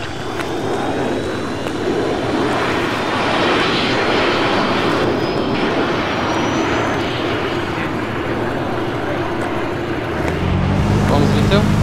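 Fixed-wing aircraft engine roaring steadily during takeoff in the military game ARMA 3, a loud continuous drone with a low rumble rising near the end, and people talking over it.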